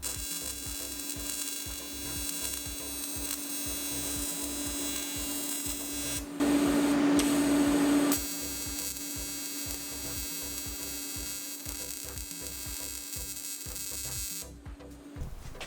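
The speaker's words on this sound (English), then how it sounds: "You always want to run your welder on a test piece first anyways, before you weld something that's really important" Aluminum test piece being welded on an LS-swapped Mustang project: a steady electric buzz with a strong mains-like hum runs nearly throughout, swelling louder for a couple of seconds midway, with no talking.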